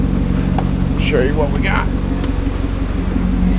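A 2005 Chevrolet Corvette C6 coupe with an LS2 V8 and 137,000 miles idles at a wrecking yard, its steady low rumble loud and close throughout while someone speaks briefly over it.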